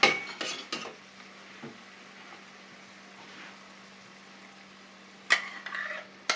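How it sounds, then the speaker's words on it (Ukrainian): A spoon scrapes and clinks against a pan while sour cream is stirred into a mushroom sauce, a few sharp taps at the start and end around a quiet, steady low hum. "Перемішуємо, додаємо сметану."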